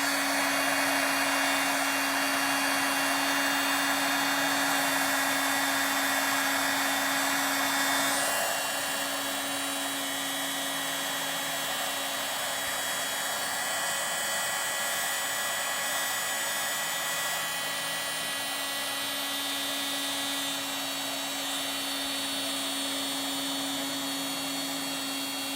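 A heat embossing tool blows a steady whirring hiss as it melts embossing powder on a candy cane card, constant and close with a high whine, heard alone throughout.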